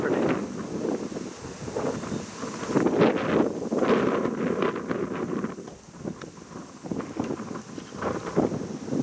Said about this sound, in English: It was very windy at Bodega Head